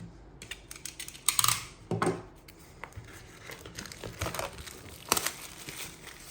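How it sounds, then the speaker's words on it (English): Penknife slicing and peeling plastic wrap off a Xiaomi Redmi Note 11S phone box: close crinkling and tearing of thin plastic in irregular bursts, with sharper crackles and a few louder rips. "Let's cut open the plastic and get inside the box."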